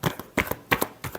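Tarot cards get shuffled in quick, crisp bursts, three or four riffling slaps in a row at close range, soft and dry with no talk over them.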